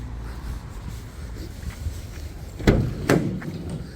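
Two sharp bangs of a van's rear doors shutting close by, one after another, following some low shuffling and handling noise.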